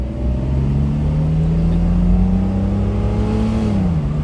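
A 1970 Mercedes-Benz 280 SE Cabriolet accelerates on a farm road, its engine note loud and steady as it climbs smoothly, then dipping briefly near the end as it shifts gear.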